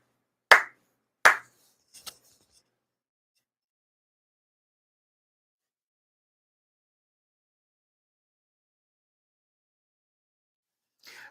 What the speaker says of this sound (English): 4 sincere claps along with the head officiant.